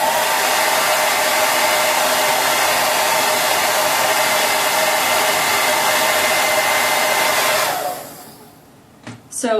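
A hair dryer blasts steadily and loudly at close range across a synthetic lace front wig, then switches off and winds down near the end, leaving brief faint sounds.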